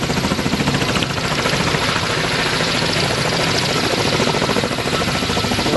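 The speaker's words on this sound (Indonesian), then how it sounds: "Ini helikopter polisi." A police helicopter's rotor thumps in a fast, steady chop with a broad, rushing engine roar, loud and close throughout with no voices.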